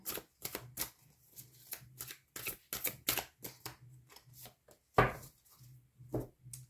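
Tarot cards shuffled by hand in a quiet room, a series of short crisp riffling bursts and soft taps at an irregular rhythm, close and fairly faint.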